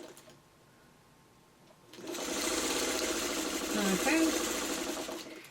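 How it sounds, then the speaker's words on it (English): A sewing machine stitching quilt pieces for a rick rack basket block starts up after a quiet moment and runs in a steady, fast whirring stream, close by, with a voice briefly speaking. "So you're gonna sew one just like that."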